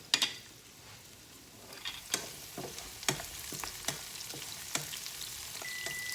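Onions sautéing in a pan give a steady, soft frying sizzle, with sharp ticks and crackles spaced irregularly on top. Nobody speaks.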